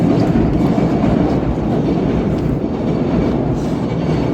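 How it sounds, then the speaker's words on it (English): Close, loud rumble of a train rolling past beside a canal, with steady clattering of wheels on rails and no talking. "I think that's a train."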